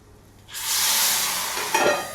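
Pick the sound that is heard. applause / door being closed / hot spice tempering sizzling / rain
hot spice tempering sizzling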